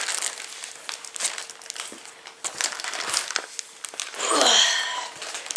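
Wrapped Christmas present being cut open with scissors and unwrapped, with close crinkling and crackling paper in short bursts, then a louder sustained rip of tearing paper near the end.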